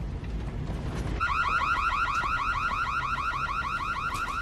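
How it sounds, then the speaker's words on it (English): A parked car's alarm goes off nearby after a moment of low background rumble, then repeats a loud, fast, warbling electronic whoop steadily with no talking. "you probably set off Chris's alarm on your way out"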